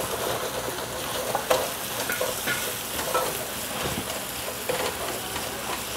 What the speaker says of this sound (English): So now you need to constantly stir it because the, the ginger garlic paste will stick to the bottom.